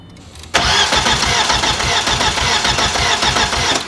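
Audi A4 with a big turbo, engine cranking repeatedly but not catching, a loud steady churning starter rhythm that kicks in abruptly and runs on without firing.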